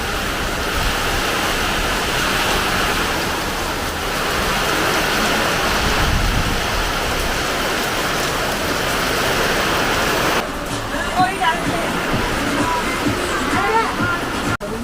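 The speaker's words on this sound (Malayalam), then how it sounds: "പെട്ടെന്നൊരു മഴ" Sudden heavy rain pours down in a dense, continuous roar, with a low rumble of thunder near the middle. The downpour eases slightly toward the end as a few soft knocks come through.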